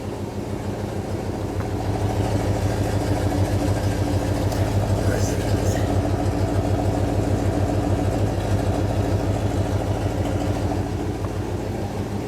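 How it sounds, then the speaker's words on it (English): A 1960 Buick LeSabre convertible idles steadily with a low rumbling single exhaust, heard close and continuous for several seconds with no talk. "Let me get the little exhaust note."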